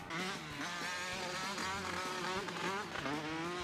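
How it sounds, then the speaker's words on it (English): Car engine in the racing game Jimmy Neutron: Jet Fusion, a buzzy synthetic drone that wavers up and down in pitch as it revs, loud and continuous with no talk over it. "Second of all, this engine sound."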